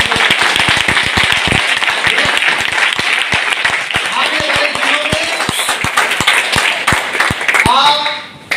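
An audience at a celebration in Bhiwandi claps loudly and densely. The sharp, rapid claps hold for several seconds, with voices and cheering mixed in, then fade at the end.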